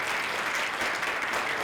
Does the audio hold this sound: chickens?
no